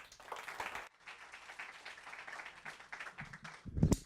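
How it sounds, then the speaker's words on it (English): Audience applause for a comedian at a stand-up show, a brief burst of clapping that pauses, then picks up again more thinly, with a loud thump near the end. "So give a big round of applause."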